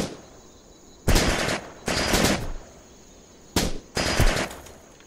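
Loud bursts of automatic gunfire from the video game Jagged Alliance Back in Action, four rapid volleys in two pairs separated by short pauses.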